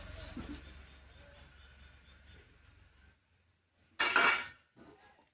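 A lid drops onto a kadai of mutton curry with one loud, close clank, then a short rattle as it settles. It follows a stretch of low simmering hum and comes right after a brief quiet gap.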